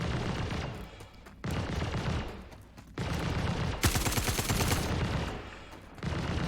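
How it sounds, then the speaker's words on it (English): Rapid gunfire rattles almost without a break as a spaceship comes under fire in the space game Star Citizen, with dense bursts of shots loud and close throughout and no talking. "Shooting at my beautiful ship."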